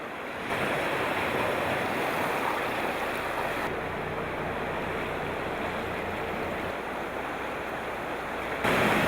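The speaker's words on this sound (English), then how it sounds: "we return to Nakwakto to observe the rapids at full flow. The turbulence is ferocious." The tidal rapids at Nakwakto run at full flow with a loud, steady roar of churning water mixed with wind rush, continuous throughout.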